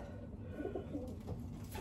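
Soft, low cooing of a racing pigeon, a few murmured coos over a quiet background hum, fairly close.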